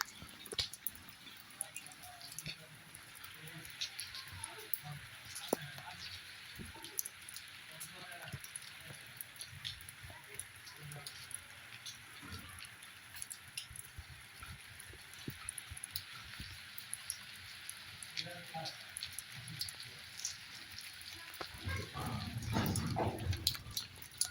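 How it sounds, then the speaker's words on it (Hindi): Steady evening rain with scattered drips and splashes throughout, fairly faint, with occasional distant sounds and a voice near the end. "बारिश हो रही है।"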